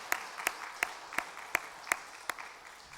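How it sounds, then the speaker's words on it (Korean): A church congregation claps together in a steady rhythm, about eight crisp, evenly spaced claps in unison at moderate volume in a reverberant hall. "우리 힘내시라고 박수 한번 하셨으면 좋겠어요"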